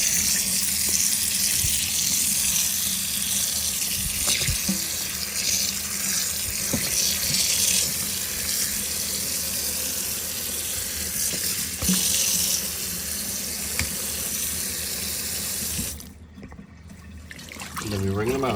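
Water runs steadily from a tap onto acoustic foam panels to soak them, a loud close hiss and splash that goes on without a break before it cuts off and leaves a short trickle, while someone talks over it.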